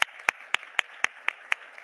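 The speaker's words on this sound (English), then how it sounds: "A round of applause" Eight evenly spaced, crisp hand claps sound at a youth mental health symposium, regular and fairly close, each ringing out alone against a quiet room rather than merging into crowd applause.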